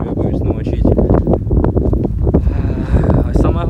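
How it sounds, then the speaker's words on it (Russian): Strong wind on the approach to Mount Bolshoye Bogdo buffets the microphone head-on, a loud, continuous rushing roar with gusty swells. "Уже иду к горе Багдо, дует сильный ветер в лицо"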